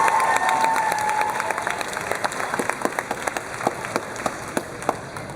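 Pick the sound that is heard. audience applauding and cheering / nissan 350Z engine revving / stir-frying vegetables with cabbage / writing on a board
audience applauding and cheering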